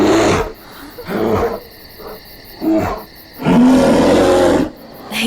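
A bear roars in a Hindi-dubbed Hollywood action thriller, giving several loud, rasping growls in separate bursts with short gaps between them.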